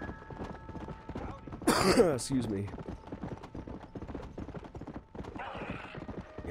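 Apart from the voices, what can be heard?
horse galloping and whinnying in Red Dead Redemption video game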